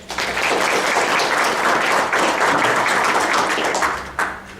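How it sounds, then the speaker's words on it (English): An audience at an information security conference talk applauds a speaker being welcomed onstage, a dense, loud wash of clapping that holds steady before cutting off abruptly near the end. "please give a nice round of applause for Dave Kennedy"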